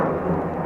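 An airplane flies overhead, producing a steady, loud, broad roar that fills the short moment without a break.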